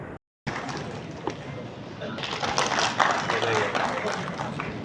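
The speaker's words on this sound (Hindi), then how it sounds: "जोरदार तालियों से सभी" A crowd at a university convocation ceremony applauds, a dense wash of clapping that builds over a few seconds. It follows a brief cut to silence.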